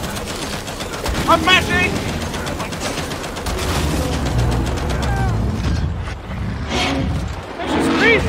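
Rapid bursts of automatic gunfire from the Gears 5 co-op video game, dense and continuous over several seconds, mixed with game effects while players shout excitedly over the shooting.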